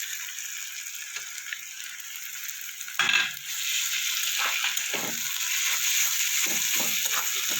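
Onion, ginger and garlic frying in a pan for a Bengali-style egg curry: a quiet hiss, then a loud burst of sizzling as more goes into the oil, settling into steady crackling with stirring scrapes.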